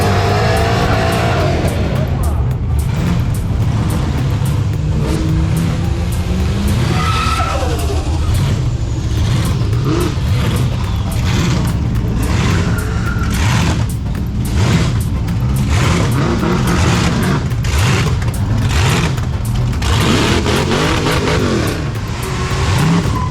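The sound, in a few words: car doing a burnout at Summernats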